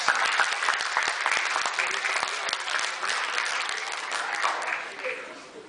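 Sustained applause from a live fundraiser show audience fills the whole stretch, dense and steady with a slight fade near the end.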